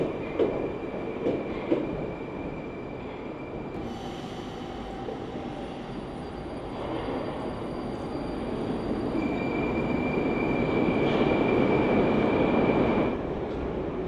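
A Moscow metro train riding underground, heard from inside a carriage: a steady loud rumble of wheels and motors with faint tonal whines and squeals rising and fading, continuous throughout.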